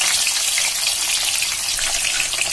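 Soya chaap pieces frying in a pan give off a dense, even sizzle that holds loud and steady from start to finish, with no voices over it.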